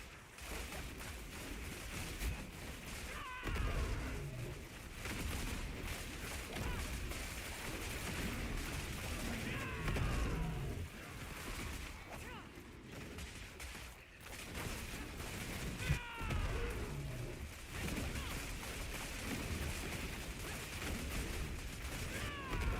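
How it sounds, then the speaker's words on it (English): Mortar explosions in the game Diablo 4 boom repeatedly through a dense, constant battle mix, with sharp blasts scattered across a long stretch amid continuous combat noise. "Those mortars though, so much damage."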